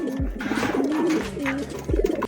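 Racing pigeons cooing repeatedly at a loft during a race arrival, the soft rhythmic coos close and clear with no talk over them.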